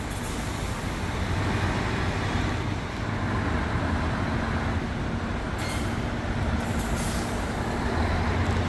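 Heavy traffic jam of buses and cars outside hotels in Mecca, a dense, steady roar of idling engines with air-brake hisses and rumbling vehicles, continuous and fairly close.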